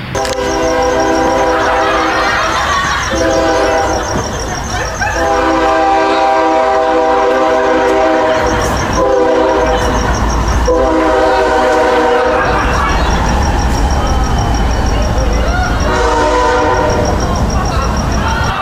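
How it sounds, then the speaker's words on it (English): Loud train rumbling past close by on tracks right outside a house, its horn sounding in long blasts over the steady roar and clatter of the cars. "train track right outside the dude's house"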